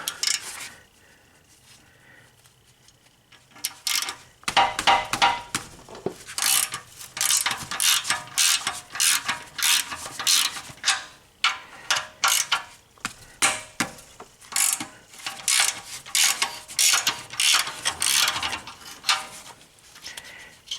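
A ratchet tightening bolts during a Honda turbocharger replacement, with a quiet start and then long runs of loud, rapid metallic clicking in bursts, close up, and no talking.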